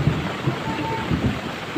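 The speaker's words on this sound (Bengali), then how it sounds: "বা কি জোরে বিদ্যুৎ চমকালো, ভয় পেয়ে গেছি পুরো।" Thunder from lightning during a daylong rain at home in Bengal, heard as low rolling rumbles swelling over a steady wash of rainfall.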